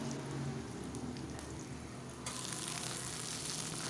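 Onion and garlic frying in a pan for pumpkin greens, a dense, steady close sizzle that grows brighter and louder midway as greens go in, with no talking.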